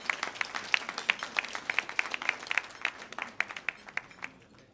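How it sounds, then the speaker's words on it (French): An audience at an award ceremony claps steadily for several seconds, dense and lively, then fades out toward the end. "Je voudrais que vous vous applaudiez vous-même."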